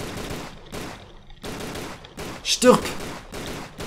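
Gunfire in the game Tomb Raider: Angel of Darkness, bursts of shots in the foreground mixed with loud excited talking, with one sharper, louder blast near the end.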